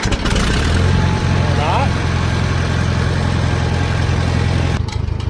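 A Farmall M tractor engine sputters to life and settles into a steady, loud, close idle that runs throughout, with someone talking over the rumble.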